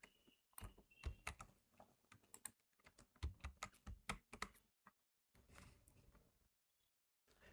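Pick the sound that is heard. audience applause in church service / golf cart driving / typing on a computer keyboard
typing on a computer keyboard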